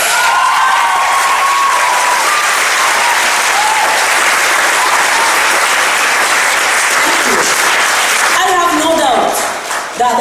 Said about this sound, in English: The clapping that you hear there is coming from their aunt.